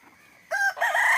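Free-range chickens out in the yard at their dust bath: after a quiet moment, a rooster lets out a loud, close crow that breaks briefly and then carries on strongly to the end.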